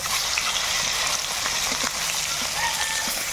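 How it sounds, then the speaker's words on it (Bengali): Tilapia fish fries in oil in a pan, giving a steady bright sizzle and crackle with a few soft pops and scrapes as the pieces are turned. "মাছটা একটু উল্টে পাল্টে ভেজে নেব"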